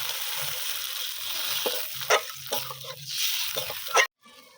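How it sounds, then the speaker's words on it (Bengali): Water poured into sizzling, oil-released fried spice paste for dhokar dalna, a Bengali lentil-cake curry, giving a loud hiss and crackle with brief splashy bursts of stirring, then a sudden cut to near silence at the end. "মশলাটা ভালোভাবে কষানো হয়ে গেছে, দেখুন তেল ছেড়ে দিয়েছে। এরকম জল দিয়ে দেবো।"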